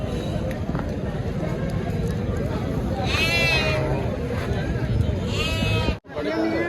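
Sheep bleat at a busy sheep market in Kerur, several wavering cries rising over constant crowd chatter and milling noise, with one bleat near the middle and another toward the end before a brief dropout.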